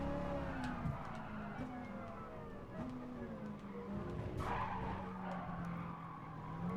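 Race cars skidding in Gran Turismo Sport, tires squealing in long wavering tones over loud engine drone, with sharp impact-like bursts midway, continuous and close.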